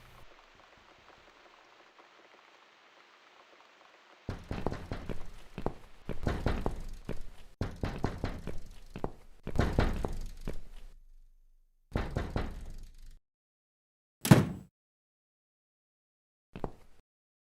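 Knocking on a door in The Cat Lady, several loud clustered raps in irregular bursts after a quiet hum, followed by a sharp single thud and a last faint knock.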